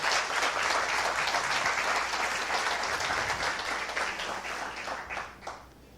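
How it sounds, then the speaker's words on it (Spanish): Church congregation applauding during a Spanish-language sermon, a dense, steady round of clapping that holds evenly and then tapers off at the close. "Denle un fuerte aplauso al Señor."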